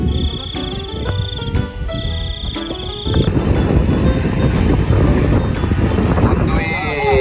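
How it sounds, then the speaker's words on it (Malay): Strong wind roars steadily against the microphone on a raft outing in Pontian, growing louder partway through, with high insect-like chirps and faint rumbling underneath. "Angin kuat."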